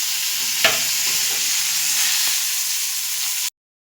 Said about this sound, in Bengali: এবার আমি কিচমিচ কাজু বাদামগুলো ভেজে নেব।